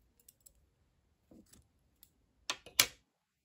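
Scissors snip crochet yarn in a quiet room, a few faint clicks and then two sharper close cuts near the end.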